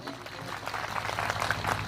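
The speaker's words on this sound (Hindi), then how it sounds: "आप सब एक बार जोरदार तालियों से स्वागत करें" A crowd claps at a Bharat Adivasi Party political rally in Kherwara, Rajasthan, giving a dense, steady patter of many hands at moderate loudness, with faint voices and a low hum underneath throughout.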